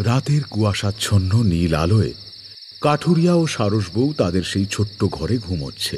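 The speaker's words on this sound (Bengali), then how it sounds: "চারিপাশে নিস্তব্ধতা কাটিয়ে মাঝে মাঝে শোনা যাচ্ছে ঝিঝি পোকার শব্দ।" Crickets chirp at night in a Bengali horror folklore cartoon, a steady high trill running unbroken beneath a narrator's voice.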